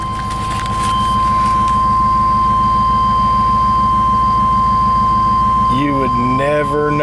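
A repaired 1999 Chevrolet Tahoe engine runs at a steady idle with an even, rhythmic throb throughout, loud and close, alongside a constant high whine; near the end some brief sounds break in over the running engine.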